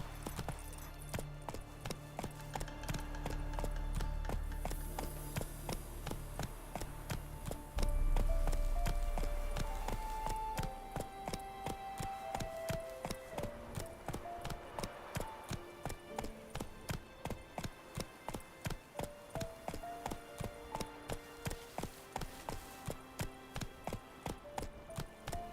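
Hooves of Roach, the horse in The Witcher 3, clip-clop in a steady rhythmic trot over soft game music, moderately close and consistent throughout.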